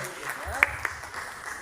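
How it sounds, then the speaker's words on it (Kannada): A short burst of audience clapping greets a guest stepping onto the stage at a felicitation ceremony held at an arts school in Laggere, Bengaluru; the clapping is moderate and diffuse, with a couple of sharper claps near the middle. "ಅವರನ್ನು ನಾನು ಪ್ರೀತಿಯಿಂದ ನಿಮ್ಮೆಲ್ಲರ ಚಪ್ಪಾಳೆಯೊಂದಿಗೆ ವೇದಿಕೆಗೆ ಬರಮಾಡ್ತಾ ಇದ್ದೇನೆ."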